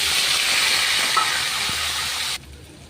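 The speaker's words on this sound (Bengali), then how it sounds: "এবার আমি পাস্তাটাকে দিয়ে দিচ্ছি" Boiled pasta tipped into a hot pan of onions fried with curry leaves sets off a loud, steady sizzle with a broad hiss. It runs for over two seconds, then cuts off abruptly, with no talk.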